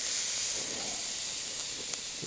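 A steak on a cheap Walmart grill flares up outdoors in the rain, producing a steady, faint hiss with a brief crackle near the end.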